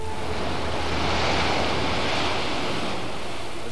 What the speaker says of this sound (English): The sound of the waves on the beach at Waikiki